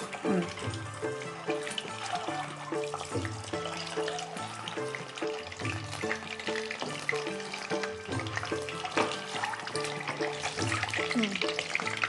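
Eggs fry in hot oil in a home kitchen and give off a steady sizzle, while people talk over it and background music plays throughout.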